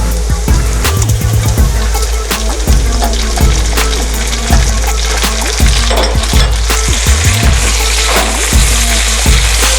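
Onions fry loudly in a hot pan for Filipino pinakbet, a dense, close sizzle with crackling pops and scraping stirs that repeat in uneven bursts throughout, with no voices over it.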